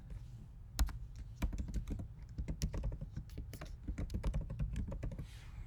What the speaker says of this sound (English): you're going to type in that email address that you put in